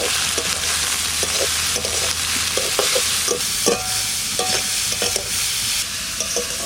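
Onions frying with green chilli, salt and turmeric in a pan for a paddy straw mushroom dish, a steady broadband sizzle broken by repeated stirring scrapes and clinks, close and fairly loud with no talk.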